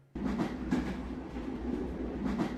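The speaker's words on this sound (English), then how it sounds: "Taking the train with your girlfriend." A train ride in the video game Kuukiyomi: a steady rolling rumble of railcar wheels with rhythmic clickety-clack, starting abruptly and continuing close and loud throughout.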